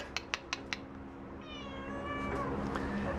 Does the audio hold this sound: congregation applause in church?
no